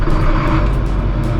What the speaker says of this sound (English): I just fired up the Case 435 Steiger there